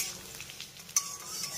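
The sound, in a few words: chopped garlic frying in oil on low flame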